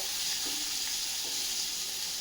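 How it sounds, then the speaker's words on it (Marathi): Chopped onion sautéing in a pan, a steady bright sizzle that holds even and close throughout, with no voices over it. "मस्त कांदा थोडासा आपल्याला म्हणजे गुलाबीसर रंगावरती परतून घ्यायचा आहे"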